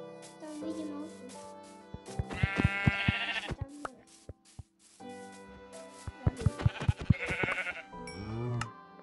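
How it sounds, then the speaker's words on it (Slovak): Sheep in a video game bleat repeatedly, several wavering calls rising and falling over a backdrop of game music, with someone speaking briefly in between. "Tam vidím ovcu."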